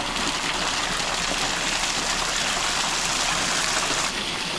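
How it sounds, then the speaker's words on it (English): A waterfall gushes into a full chasm with a dense, steady roar of rushing water, loud and close, continuous and unbroken, with no voices. "In the full chasm. Waterfall."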